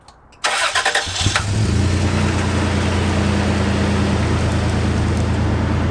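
A 34-year-old car engine cranks briefly and catches, then settles into a steady, loud idle that runs to the end without any voices.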